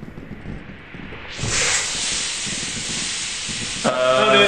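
A loud, steady broadband hiss of steam bursts on after a quiet start and keeps going in Lethal Company, with a brief sharper tonal rise near the end.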